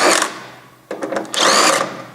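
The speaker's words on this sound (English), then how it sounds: "use your 5/16 drill here, a bit in there to" A power drill with a 5/16 bit whirs in short bursts, stopping and restarting, close up and loud, with a brief stuttering spin between the longer runs.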